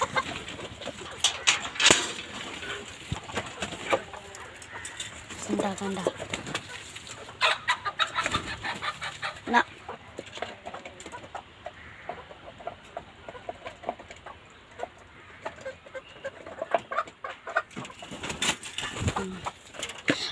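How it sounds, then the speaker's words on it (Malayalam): Chickens cluck and call in a backyard coop as they are let out after heavy rain, a steady busy flock chatter close by with some other birds mixed in and a brief spoken word. "ഇനി നമുക്ക് കോഴിനെ വിടാൻ പോവാം."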